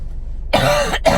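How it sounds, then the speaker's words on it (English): A person with a persistent cough lets out two harsh coughs close to the microphone, the second short and following right after the first. "my head hurts from coughing so much."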